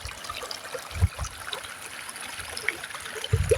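Water trickling and flowing over a flooded rice field after heavy rain, a faint outdoor babble with occasional soft gurgles and splashes.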